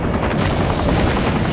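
A helicopter in The Incredibles PS2 game gives off a steady, loud, dense rotor drone with a fast pulsing chop throughout the short stretch.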